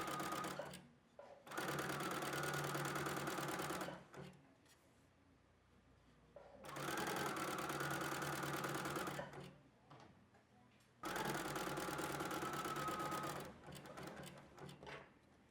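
A sewing machine finishes fabric edges in three bursts of steady, close whirring stitching, each a couple of seconds long and separated by quiet pauses.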